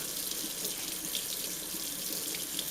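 Steady hiss of tap water running into a sink as a face painting brush is rinsed clean, constant and close throughout with no voices.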